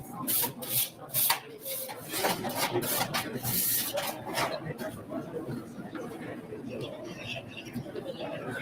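Housekeeping scraping in the background makes a faint, continuous rubbing rasp, with brief clacks and voices chattering throughout.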